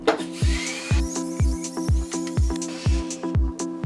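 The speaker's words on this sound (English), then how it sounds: "we're going to unscrew all of the screws from our motherboard so that we can remove the board from the case" A power screwdriver removing motherboard screws from a PC case, with a whirring motor pulsing in about eight evenly spaced bursts, each ending in a low thud, close and loud.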